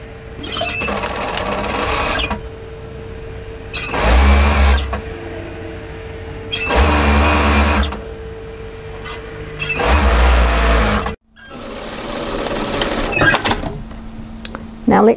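A domestic sewing machine runs in three or four bursts of a few seconds each, stitching a jacket sleeve seam with right sides together, with pauses between runs and no talk.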